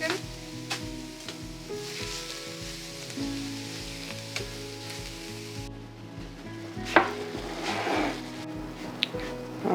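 Meat for chili mac sizzles and fries in a pan while being broken up, a steady close crackle with a rhythmic pulsing undertone and occasional scraping stirs.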